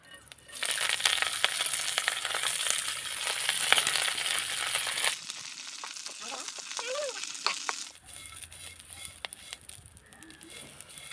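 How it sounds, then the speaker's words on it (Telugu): Curry leaves frying in a few spoons of hot oil in a pan, a loud crackling sizzle for several seconds that drops away, then lighter stirring and scattered pops. "కరివేపాకు ఈ విధంగా వేగితే సరిపోతుంది."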